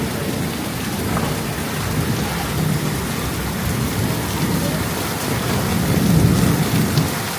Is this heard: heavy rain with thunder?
yes